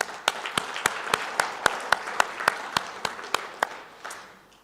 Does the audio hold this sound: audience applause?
yes